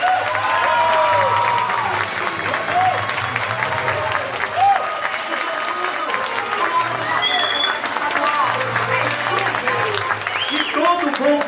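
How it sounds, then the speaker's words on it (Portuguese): Audience at a state deputy candidate's campaign launch applauding loudly and continuously, dense close clapping with some crowd noise and a voice over a loudspeaker throughout. "eu queria que vocês aplaudissem demais"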